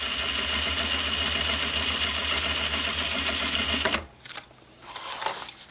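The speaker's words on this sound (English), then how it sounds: "Be sure to back stitch to lock those in." A sewing machine stitches a recycled denim pouch in a fast, even mechanical whirr for about four seconds, then stops, leaving quieter handling sounds.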